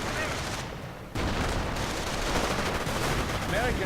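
Rifle and machine gun fire crackles in a World War II-style strategy video game, dense overlapping shots and bursts forming a steady, busy battle din with talk over it.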